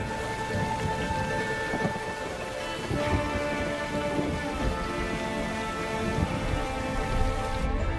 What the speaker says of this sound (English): Frequent, unforgiving thunderstorms batter the landscape almost every day.